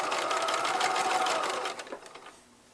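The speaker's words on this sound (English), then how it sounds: "I'm sewing" A sewing machine stitches a flat fell seam in fabric with a close, steady whirring hum that slows and fades to a stop near the end.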